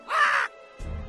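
A cartoon crow gives a single loud, raspy caw, close and alone, followed by a low rumbling tail.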